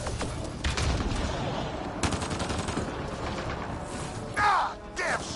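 Sustained gunfire rattles through a battle in the video game Mass Effect, with rapid overlapping bursts and sharp cracks that are loud and close throughout.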